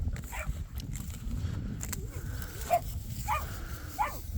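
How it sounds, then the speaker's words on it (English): Several fed dogs bark, yip and whimper at a moderate distance in scattered short bursts over a low background rumble. "just fed the dogs and they get really noisy."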